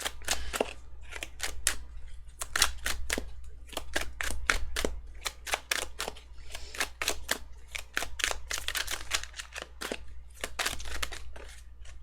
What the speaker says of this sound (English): it's a lot of shuffling.